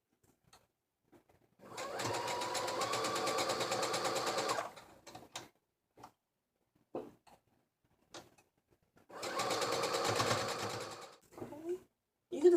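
A sewing machine stitches turban headwrap fabric in two steady runs of rapid, close whirring, separated by quiet pauses with soft clicks and handling noises.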